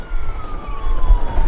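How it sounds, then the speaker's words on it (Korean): A police siren wails in the PC video game Watch Dogs, its tone sliding slowly downward over a steady low rumble. "경찰차 온다."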